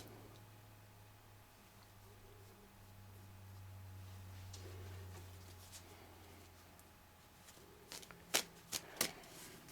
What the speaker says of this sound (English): Let's have one more card for Sagittarius, please.